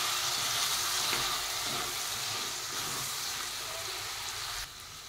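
Brinjal and chana dal curry is stirred and mixed in a frying pan, with a steady close sizzle and soft scraping of the spoon that eases slightly near the end.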